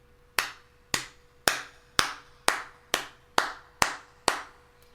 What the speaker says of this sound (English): That's a clap.